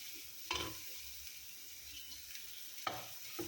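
Corned beef frying in a pan gives a quiet, steady sizzle with a few brief utensil clinks and scrapes.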